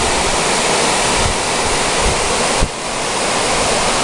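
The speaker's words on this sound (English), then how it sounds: "Look at the scouring action this river has when it's in full flood." Oyster River on Vancouver Island rushing in full flood, a loud, continuous roar of churning water close by, with a brief thump partway through.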